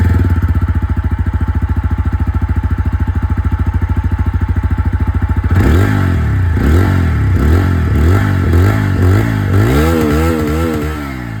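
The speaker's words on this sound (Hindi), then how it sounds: "तो ये दोस्तों, आप लोगों ने यहाँ पर जो अपाचे की आवाज़ है वो आप लोगों ने सुन ली है।" TVS Apache RTR 160 4V motorcycle exhaust, first a steady buzzing idle, then loud revving with rising and falling engine pitch in repeated throttle blips, heard close up with no talking.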